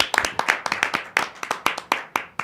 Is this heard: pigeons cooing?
no